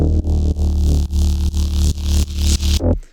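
A layered synth bass with a distorted white-noise layer plays a loud, buzzing, gritty riff of rhythmic notes, each separated by brief gaps, before ending sharply.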